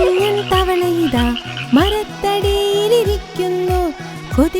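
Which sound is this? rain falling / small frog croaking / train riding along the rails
small frog croaking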